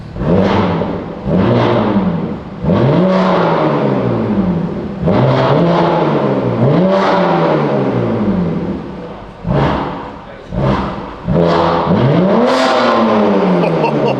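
A BMW G80 M3 fitted with an exotic aftermarket exhaust revs repeatedly, about eight sharp blips that climb and fall back in a steady rhythm, loud and close, with no talk over the engine.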